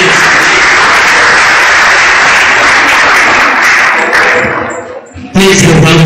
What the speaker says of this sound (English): Please give a round of applause once more.